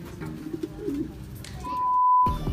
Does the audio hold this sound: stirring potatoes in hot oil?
no